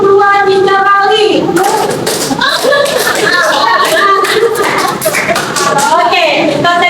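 After a teacher's spoken cue, a class bursts into rapid rhythmic group clapping in a classroom, repeated claps in quick patterned bursts continuing under overlapping voices and chatter.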